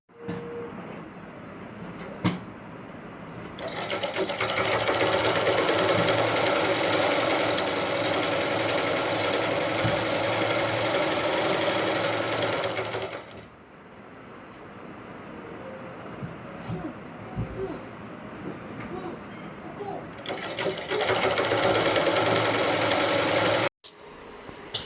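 A sewing machine stitches the sides and edges of a saree with a steady, loud whirring run that stops briefly, gives way to quieter handling sounds, then starts up again.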